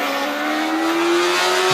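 A single-cylinder Formula SAE race car launches off the line in an acceleration event, its engine note climbing sharply as it pulls away, loud and close.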